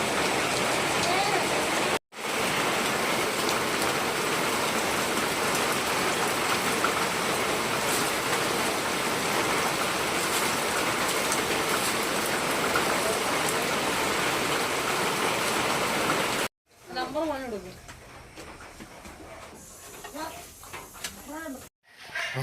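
Heavy rain pours in a steady, dense hiss for most of the stretch, then cuts away to a quieter scene where a person speaks.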